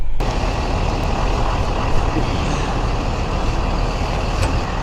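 An RV's air parking brake releases while the engine idles with a loud, steady diesel rumble close by, with no talking.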